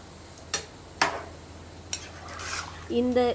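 A few sharp clinks and scrapes of a spoon against a pot as chicken biryani mixture is stirred, spaced irregularly with soft sizzling underneath.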